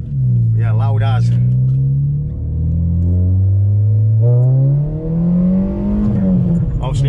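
Loud Citroen Saxo VTR driving close up, its engine a continuous deep drone that swells and dips with revs, climbing toward the end.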